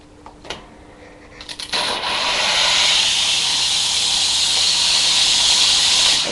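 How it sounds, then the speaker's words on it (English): A steam cleaner lance fitted with a circular brush, used on an upholstered chair and a mirror, lets out a loud, sustained hiss of steam after a few short clicks and puffs, holding steady to the end. "it's a steam lance with a circular brush"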